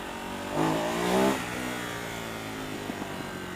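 A Ducati Hypermotard 939 motorcycle engine revs up in two rising bursts close by, then settles into a steady idle with a few faint exhaust pops near the end.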